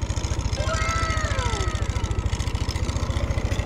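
A Yamaha Aerox 155 scooter engine with an error 12 fault idles steadily with a fast, even putter throughout, with a faint rising whine drifting over the top.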